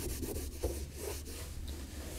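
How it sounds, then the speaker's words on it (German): A dry cloth rubs and polishes plastic car interior trim, making steady, close swishing strokes in a repeated rhythm with no voices. "Auch hier nehmen wir nochmal eine frische Tuchseite, polieren das einfach wieder trocken."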